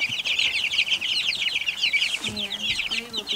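A flock of chickens clucks and chirps continuously nearby, a busy overlapping chatter with a brief low voice-like sound near the end.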